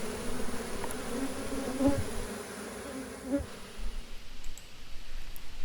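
Bees at a rescued hive buzz in a steady, close hum as they fan and move around, with a few brief clicks and knocks over the drone and the sound thinning slightly toward the end.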